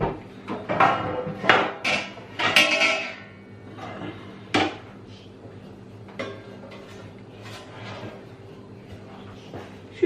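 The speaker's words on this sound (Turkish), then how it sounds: "Ben e, fırın tepsisini üstüne çevireceğim." A metal baking tray is set upside down over a tray of rolled kadayıf baklava, giving a few sharp clattering metallic knocks and scrapes up close, followed by quieter kitchen handling sounds.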